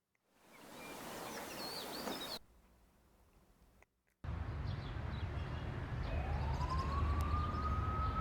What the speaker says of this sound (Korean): 이번엔 사이렌 소리가 들리는군요.